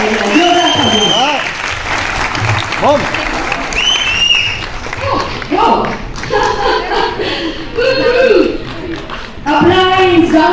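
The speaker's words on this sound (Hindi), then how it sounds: "जोरदार तालियां बजाओ" Loud applause and cheering from a large seminar audience packed into Jawaharlal Nehru Stadium, sustained clapping throughout with bursts of crowd shouts and amplified voices rising over it.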